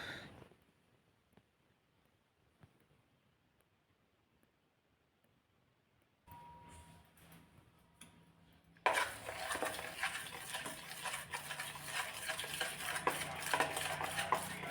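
Besan and rava dhokla batter is mixed with lemon juice in a bowl. Near silence comes first, then soft handling sounds, and finally close, steady scraping and stirring of the thick batter grows loud and continues to the end, with no talk.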